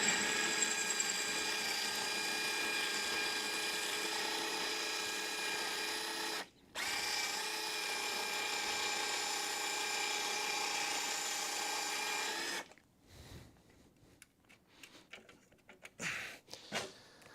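An electric drill bores steadily into a bolt head on a Charger crew cab build near the sill panel, a long continuous high whine with one brief pause, then stopping and giving way to scattered clanks and handling noises.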